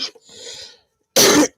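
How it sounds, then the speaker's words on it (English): A smoker's cough: a quiet throat-clearing rasp, then one loud, harsh, broadband cough burst lasting about a quarter second, followed by the start of another, close to the mic. "sorry, you guys, smoker's cough."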